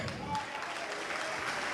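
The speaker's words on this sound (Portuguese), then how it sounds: "e vamos aplaudir, igreja" A church congregation breaks into applause during a worship service, a brief, even wash of clapping at moderate level.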